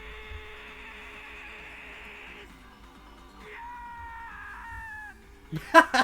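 A cat-like scream from the Steins;Gate video game, a sustained high wavering wail that breaks into shorter shifting cries, followed by a few sharp loud bursts near the end.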